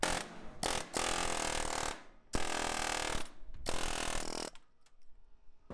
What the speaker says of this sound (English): I can chisel all the heads off.